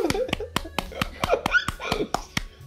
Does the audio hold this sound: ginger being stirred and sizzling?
no